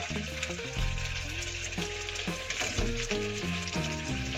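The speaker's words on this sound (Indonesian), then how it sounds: "Jadi sekarang kita masukkan" Tomato tipped into a pan of frying squid and Indomie instant noodles, a steady close sizzle with stirring scrapes, and music playing over it.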